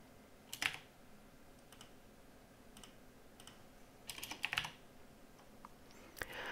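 Light typing on a computer keyboard in a quiet room, a few scattered quick bursts of clicky keystrokes separated by pauses.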